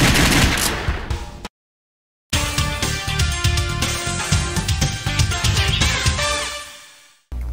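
Rapid gunfire and explosions from the Virtua Cop light-gun arcade shooter during a boss fight against an enemy with a jetpack and two launchers, dense and loud with a brief silent gap partway through.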